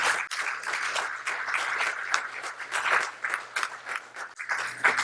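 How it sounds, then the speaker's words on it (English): An audience applauds the speakers at an academic talk with a steady wash of clapping over a faint low hum, lasting the full stretch without speech. "give a round of applause for all of our speakers"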